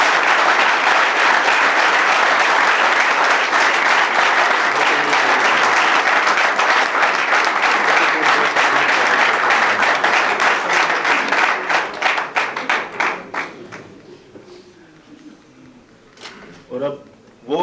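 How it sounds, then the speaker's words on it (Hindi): Sustained audience applause in a hall during a 1996 stage show, loud and dense, thinning out and fading after about twelve seconds into scattered claps. "मैं चाहता हूँ कि ये तालियों की गूंज में लहरी साहब के ऑनर में ये होना चाहिए"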